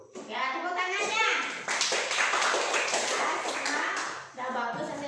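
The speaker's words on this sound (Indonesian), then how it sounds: "Ya, tepuk tangannya." A primary-school class of sixth graders in Indonesia bursts into dense, lively hand clapping for a few seconds, with a teacher's voice speaking before and after.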